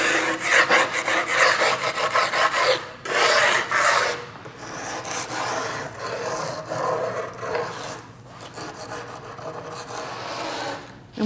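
Steady, rough scraping over raised areas and overlap marks on a SkimStone concrete veneer countertop, a continuous rasping close to the listener, broken by brief pauses every few seconds.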